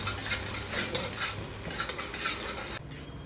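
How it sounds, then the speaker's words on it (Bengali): Whole cumin seeds lightly frying in oil for a Bengali cabbage bharta, a busy crackling sizzle stirred with a utensil, scraping and clinking throughout, the frying dropping a little near the end; no voices. "এবার দিয়ে দেবো গোটা জিরে। এটা হালকা ভেজে নেবো।"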